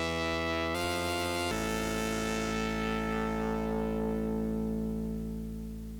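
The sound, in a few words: Moog DFAM analog drum synthesizer being played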